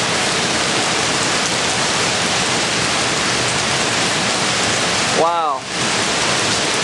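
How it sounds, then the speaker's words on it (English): Heavy wind-driven rain from storm Gustav sweeps across a yard while trees are battered, a loud, dense, unbroken hiss. Near the end a voice briefly exclaims. "The rain is just cranking across the yard. It's coming straight across."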